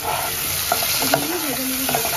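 Paneer fries in a pan with salt and turmeric, a dense steady sizzle up close, with a few soft utensil clicks and a faint whistling tone over the hiss.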